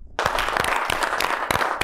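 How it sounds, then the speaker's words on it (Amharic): An audience at an Ethiopian TV quiz show between artists claps for a couple of seconds, with dense applause and a few sharper claps standing out, and a faint voice beneath it. "አጨብጭቡ እንጂ ለነሱ"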